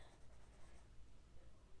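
Coloured pencil scratching steadily across paper, close and quiet, with a continuous soft rubbing texture and small rhythmic strokes, while colouring a Disney Sleeping Beauty picture.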